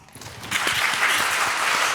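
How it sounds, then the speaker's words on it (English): An audience breaks into applause at a talk on antisemitism after October 7, the clapping swelling quickly after a brief quiet moment and filling the room densely. "Applause."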